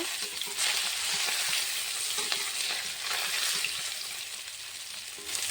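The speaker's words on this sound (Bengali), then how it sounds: "লাল লাল করে ভেজে নিয়েছি" Pieces of rohu fish frying in mustard oil in a wok, a loud, continuous sizzle with faint crackles, steady from start to finish with no voices.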